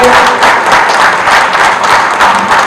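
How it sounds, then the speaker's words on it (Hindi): A crowd at a Punjabi community political gathering welcomes a politician with close, loud, vigorous clapping that stays dense and steady for under three seconds. "एक बार जोरदार तालियां बजाएंगे"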